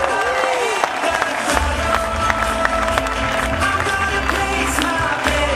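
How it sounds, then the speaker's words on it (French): A crowd at a sailing regatta medal ceremony claps and cheers for the winning team, steady applause with scattered whoops running throughout while an announcer's amplified voice carries over it. "je vous demande un tonnerre d'applaudissements pour cette équipe qui a été magistrale tout au long de ce week-end"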